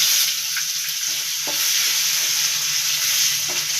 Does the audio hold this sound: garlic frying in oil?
yes